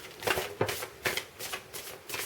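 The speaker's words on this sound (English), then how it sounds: "Let's see if I can get cards to shuffle." Tarot cards shuffled in the hands, a steady series of riffling bursts roughly every half second, close and fairly quiet, with no talking over it.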